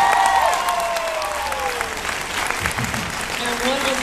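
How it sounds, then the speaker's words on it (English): Audience applause during a voice-actor Q&A panel, a steady wash of clapping that carries through the whole stretch with a faint voice or two underneath. "So everybody give Danny a big round of applause."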